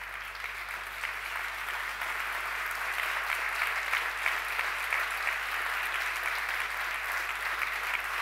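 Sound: long round of applause at award ceremony

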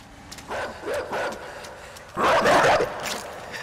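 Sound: dog barking in the video game Inside

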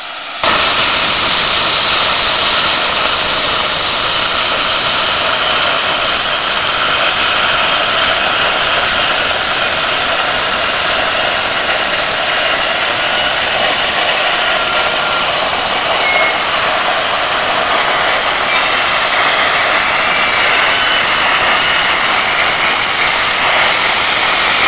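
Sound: plasma cutter cutting 3mm steel plate at 30 amps

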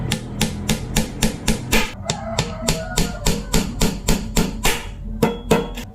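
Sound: hammering nails

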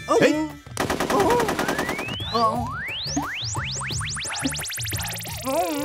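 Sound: machine gun fire in an action movie

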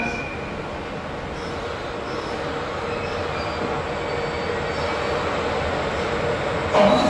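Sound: electric freight locomotive train arriving

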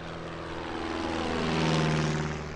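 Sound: pair of 1930s two-seat touring propeller aircraft flying

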